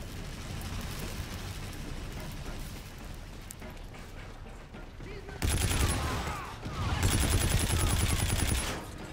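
Rapid bursts of gunfire in Call of Duty: Infinite Warfare multiplayer crackle over a busy background, growing louder and denser in the second half, with sustained automatic shooting near the end.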